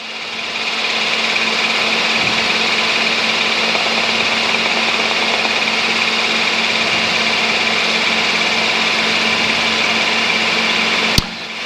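A light aircraft engine drones steadily and loudly in flight, a constant buzzing hum with a faint tonal whine, ending in a brief sharp click.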